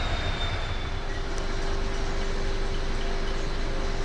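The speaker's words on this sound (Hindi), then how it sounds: "भगत की कोठी से डिपार्चर करती ट्रेन" A diesel train on a single line departs Bhagat Ki Kothi station, a steady near rumble of engine and rolling wagons with a faint high wheel squeal running throughout, no voices.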